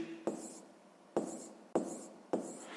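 A math solution is written out by hand, four faint scratchy pen strokes in an irregular rhythm, close and quiet.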